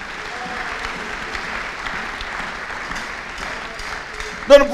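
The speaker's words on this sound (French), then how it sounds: "Et acclame le Seigneur." A church congregation applauds steadily throughout, a dense, even wash of clapping and cheering that ends with a brief louder burst.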